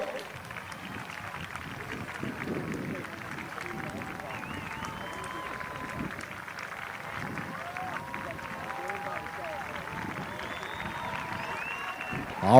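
Crowd at a masters track and field meet cheering and clapping for a Paralympic 200 m runner, a continuous spread-out swell of applause and shouts with voices mixed in, rising at the end.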